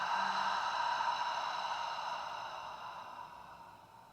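Long, soft exhale of a deep breath during a prenatal yoga session, a breathy hiss fading gradually over about four seconds with no talking.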